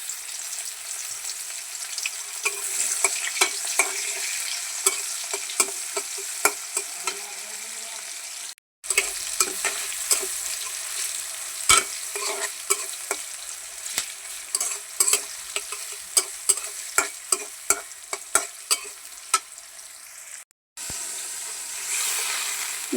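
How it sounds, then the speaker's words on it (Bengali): Onions frying and being stirred in a pan on a home stove, a steady close sizzle broken by repeated scraping clicks of the spoon against the pan, with two brief drops to near silence. "এই যে পেঁয়াজটা বাইজা নিব।"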